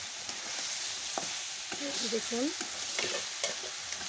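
Beef frying in a pot over a crackling wood fire, stirred with steady scraping strokes beneath a constant sizzle, close and moderately loud; a voice says a brief word in the middle.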